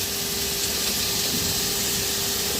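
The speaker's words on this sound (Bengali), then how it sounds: "এই শাকগুলো সব এই ফ্রাই প্যানে ঢেলে দিব।" Data shak greens hitting a hot frying pan give off a steady, loud, broadband sizzle and hiss that continues unbroken throughout, close up with no talking.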